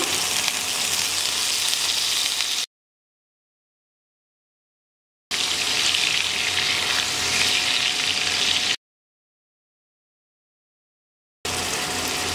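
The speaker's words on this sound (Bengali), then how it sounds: "এবারে আমি দিয়ে দিচ্ছি 1/2 কাপ পরিমাণ পেঁয়াজ বাটা।" Onion paste with spices such as cinnamon fries in a pan, giving a loud, steady close sizzle in three separate stretches broken by total silence.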